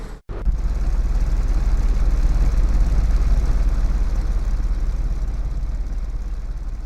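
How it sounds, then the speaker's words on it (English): A tuned 2004 Nissan Sentra Spec V from the L.A. Rush video game, fitted with Borla headers and exhaust, growls with a steady, loud, low engine drone that holds evenly for several seconds after a brief cut-in. "The Borla headers and exhaust will have this one growling."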